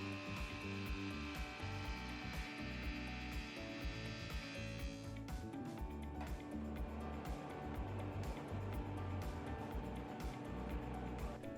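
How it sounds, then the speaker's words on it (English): A skill saw trims curves off maple trim during a cabinet makeover, a loud, continuous whining motor cutting through wood, close and sustained throughout, with changes in pitch as the blade works. "So we pulled out that skill saw so that we could trim off the curves of the sides too"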